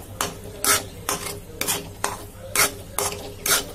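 Grated coconut for laddu is stirred in a pan in a rhythmic run of about seven scraping strokes, each a short rasping burst over a soft background sizzle.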